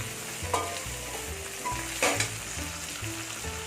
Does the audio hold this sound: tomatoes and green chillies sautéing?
yes